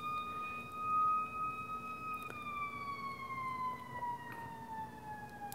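A police siren wails steadily outside a workshop, its gliding tones slowly falling in pitch as it passes at moderate distance, with low road rumble beneath and no talk.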